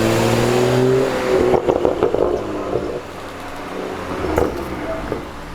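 A BMW M135i xDrive six-cylinder engine revs hard in several quick bursts, then settles to a rough idle with another short rev, loud and close.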